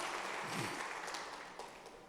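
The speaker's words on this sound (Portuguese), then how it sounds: "Você pode dar um aplauso bem forte ao Messias" A church congregation breaks into applause for the Messiah, a broad wash of clapping that swells and then fades, moderately distant.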